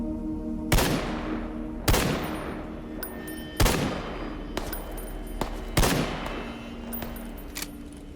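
Gunfire in Stalker GAMMA, four or five loud, sharp shots spaced about a second apart, each with a ringing tail, plus a few fainter distant pops in between, no talk.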